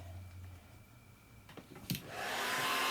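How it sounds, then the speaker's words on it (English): A couple of soft clicks, then a hair dryer switches on and blows with a steady, loud rushing whir, softening vinyl upholstery on a retro dining chair. "a hair dryer really helps to make the vinyl nice and soft and malleable"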